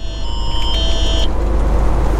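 A high, steady Amber Alert emergency tone sounds for about a second inside a truck cab over loud road rumble, then cuts off, leaving the engine and traffic noise.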